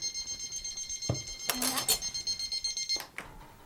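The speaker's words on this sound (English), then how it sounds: "Most annoying timer." A kitchen timer beeps in a long run of rapid, evenly spaced electronic tones at close range while lemon herb white fish cooks, with a few clatters and brief bumps breaking in partway through.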